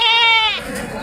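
At the Kunta goat market in Andhra Pradesh, a goat lets out one loud, close, wavering bleat, followed by a low murmur of the market crowd.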